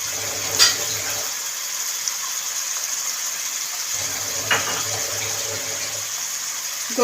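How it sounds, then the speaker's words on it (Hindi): A little water poured into mutton keema frying in a pan, bringing a gushing splash and a louder hiss over a steady sizzle, with a couple of utensil clinks. "दो से 3 मरतबा इस तरह से थोड़ा थोड़ा पानी ऐड करेंगे।"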